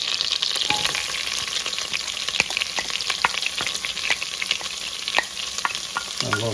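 Garlic and shallot sizzle steadily in a hot pan for creamy spinach soup, a dense continuous fry with frequent scraping stir clicks throughout, close and fairly loud, no talking.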